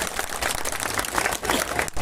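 Crowd applause at a Bhil community gathering and fair, dense loud clapping from many people filling the space for about two seconds, no talking over it.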